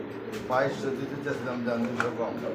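Pigeons coo softly at a pigeon sale, several low throaty calls rising close by while people talk over them.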